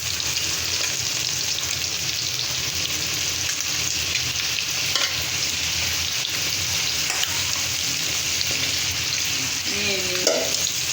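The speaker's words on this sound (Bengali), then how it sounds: "তরকারিগুলো ভালোভাবে কষিয়ে নেব" Fish head and cauliflower curry sautés in hot oil, giving a steady, dense sizzle and fry throughout, with faint stirring scrapes near the end.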